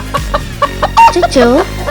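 A cartoon chicken in a Tamil animated moral story gives loud, close, bright clucks in a quick series, with pitched bawk-like calls rising and falling and nothing else around them.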